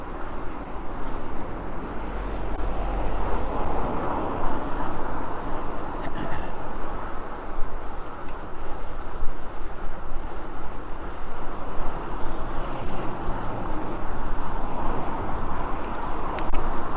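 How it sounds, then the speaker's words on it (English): Steady roar of road traffic near a coastal route heading toward Bournemouth, cars passing continuously as a broad wash of noise with wind buffeting the microphone, no distinct individual pass-bys and no voices. "yeah, cars, traffic, noise"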